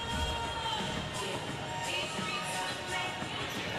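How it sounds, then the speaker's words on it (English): A packed crowd cheers and shouts at a National Squash League final match, a dense, steady roar of voices filling the space close and loud throughout. "what an amazing crowd in attendance here"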